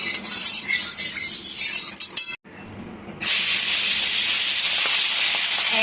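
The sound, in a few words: fish head frying in hot oil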